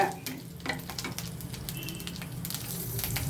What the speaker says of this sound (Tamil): மிளகாவை நல்லா இது மாதிரி வதக்கிக்குங்க